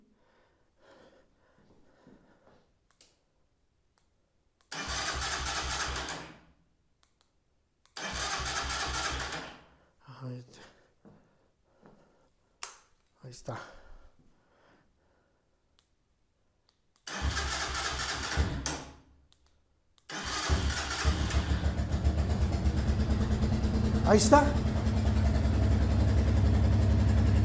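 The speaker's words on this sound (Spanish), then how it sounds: "Estas llaves tienen lo que es el detalle de inclusive arrancar la moto así como está." A new Vento motorcycle is started with its key: several short cranking bursts, then the engine catches and settles into a steady, close idle. Brief speech comes before the starts.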